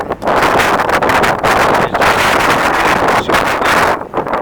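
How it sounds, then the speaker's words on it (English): Strong wind at a harbour buffets the microphone in a loud, continuous roar, surging and briefly easing in gusts of around 50 km/h. "Gusts are around 50 clicks"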